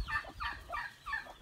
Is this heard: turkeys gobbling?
yes